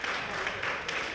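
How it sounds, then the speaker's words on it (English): Applause from a gala audience honoring Mark: a short, dense wash of clapping that holds steady at moderate volume throughout. "how about another big round of applause for Mark?"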